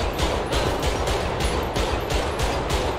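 Rapid, evenly spaced gunshots aimed at the player in GTA 5, a steady rhythmic stream of sharp shots about every quarter second, loud and continuous.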